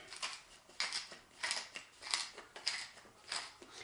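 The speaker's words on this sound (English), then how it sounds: "Grind our pepper." A pepper mill grinds pepper for a crock-pot green chili loaf, giving six or so short dry crunching twists in an even rhythm, faint and close with no voices.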